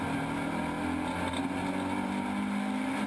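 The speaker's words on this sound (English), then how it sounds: "even though he is revving the nuts off his little Renault" Renault touring car engine revving hard during a race at Snetterton, a steady droning roar with no letup, heard alone and fairly distant.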